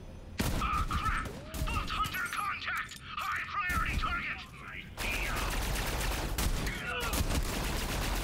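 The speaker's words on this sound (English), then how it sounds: "Oh, I'm getting shot by somebody." Rapid bursts of gunfire in a Borderlands 3 battle, dense crackling volleys and sharp shots at close range, continuing through most of the stretch with occasional tonal weapon whines, while a voice talks over it.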